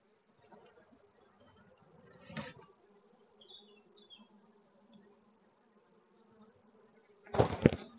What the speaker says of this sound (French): On entend au bourdonnement que tout est calme